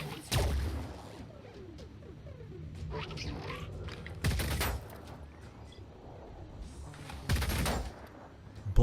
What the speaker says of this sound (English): Bullets are still hitting us.